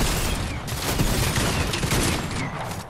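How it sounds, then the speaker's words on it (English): Rapid bursts of gunfire from the Fortnite video game crackle continuously and loudly, a dense fusillade of overlapping shots with no talk over it. "Damn, I missed all my damn shots"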